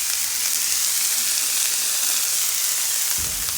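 Kale sizzles and fries steadily in a hot pan with a constant hissing crackle, loud and close, and a soft stir or clunk near the end.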